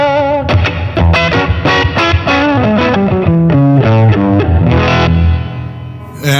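An electric guitar played through a Fly Rig pedal with distortion and a long reverb rings out in a quick run of picked notes, loud and close, the tail washing over each note with no talking.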